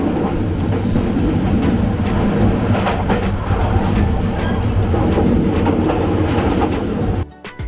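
A passenger train rolls steadily through the countryside of Bangladesh toward Sreemangal, heard from inside an air-conditioned seat compartment: a loud continuous rumble with rhythmic clatter throughout, cut off abruptly near the end.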